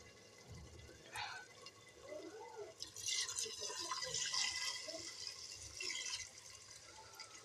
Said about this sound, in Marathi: आता मी याच्यात टाकणार आहे पाणी